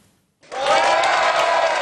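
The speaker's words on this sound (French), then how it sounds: "les applaudissements sont vigoureux à la fédération départementale du PS" Vigorous applause erupts suddenly from a crowd at a Socialist Party departmental federation in Clermont on election night after a brief silence and continues loud and steady, mixed with some cheering.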